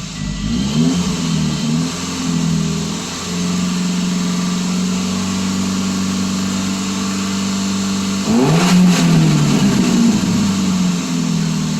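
A 2007 Subaru Impreza engine idles with a steady hum after warm-up, then revs up twice, the pitch rising and falling back each time; no voices.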